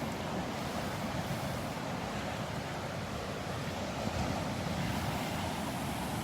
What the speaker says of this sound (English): Little waves.